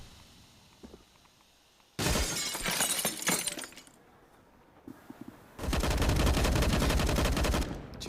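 Gunfire in a CS:GO match, two loud, dense bursts of rapid shots, each lasting about two to three seconds, separated by a quieter gap holding a few isolated clicks and impacts.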